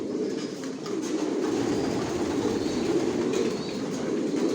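Several racer pigeons coo together in a loft, a thick, unbroken low murmur filling the space at a steady level, near and without voices.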